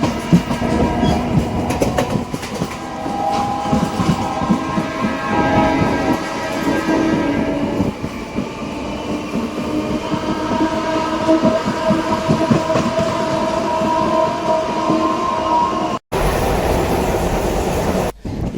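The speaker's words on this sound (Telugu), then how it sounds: "మనకు కుడివైపున ఉన్న ట్రాక్లో గూడ్స్ రైలు వెళుతోంది" A goods train rolls past on the neighbouring track beside a moving MEMU train near Mahbubnagar, a steady loud rumble of wheels and wagons with clickety-clack rhythm and low mechanical hum, briefly cut near the end.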